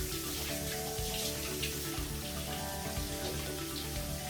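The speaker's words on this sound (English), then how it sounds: "I'm going to wash the glove" A kitchen tap runs steadily as a glove is rinsed under the flowing water, a continuous close splashing hiss with faint patters and no talking.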